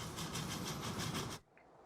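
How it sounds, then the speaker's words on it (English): Video-game trains rumble along a railway with a steady rhythmic clatter and hiss, loud and close, then cut off abruptly near the end leaving near silence. "let's just basically see our new trains in action"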